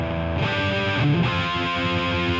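Heavily distorted electric guitar through a high-gain amp simulation in AmpliTube 5 with a single cabinet, sustained chords ringing with a thick, saturated tone, steady and fairly loud.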